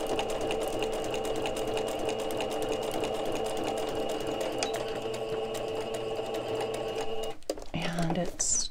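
Sewing machine running at slow speed stitching signatures of a file folder junk journal, a steady continuous mechanical hum throughout with a voice talking over it, ending in brief handling noises.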